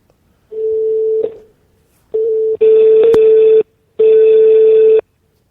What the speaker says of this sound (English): I'm going to phone that bitch back again.